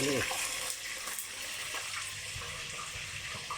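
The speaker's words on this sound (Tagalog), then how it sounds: "So ngayon, ipiprito ko naman siya." Small descaled fish frying in hot oil, a steady crackling sizzle with spattering pops, loudest at the start as the fish hit the pan, then a continuous hiss; a voice is briefly heard underneath.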